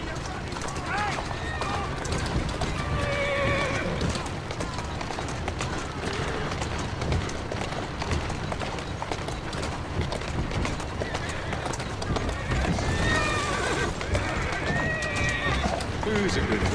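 Horse hooves clip-clop at a running pace in Assassin's Creed Syndicate, with a neigh or two over the steady gallop, while a rider talks gently to the horse throughout.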